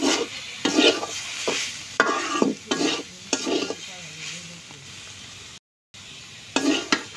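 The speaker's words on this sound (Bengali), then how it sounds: "দেখেন ভাজা ভুজা হয়ে গেছে" Ivy gourd leaves and papaya leaves frying in oil in a pan, loud repeated scraping stirs with a spatula over a soft steady sizzle, close by, with a brief silent gap.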